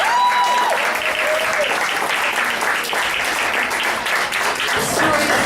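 A comedy club audience gives loud, sustained applause for comedian Tracy Rowland, a dense wash of clapping with faint voices and whoops mixed in.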